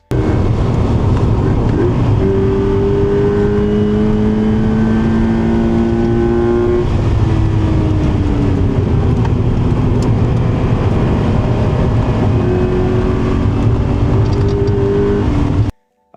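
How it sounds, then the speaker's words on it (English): A car engine revs, picked up by a microphone tucked inside the dash of an in-car racing setup. The loud, steady engine tone climbs and falls through the RPM range without a break for the whole stretch. "So I'm basically just capturing the engine sound, and I think it sounds great."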